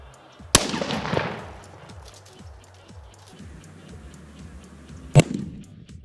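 A blasting cap fixed to the palm of a plastic mannequin hand stuck in the ground goes off with one sharp, loud crack and a brief rumbling tail, followed by quiet and a second sharp bang near the end.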